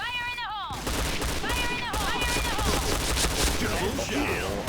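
A P90 submachine gun fires in the video game Point Blank, with rapid, continuous automatic bursts that are loud and close. Brief tonal game effects sound at the start.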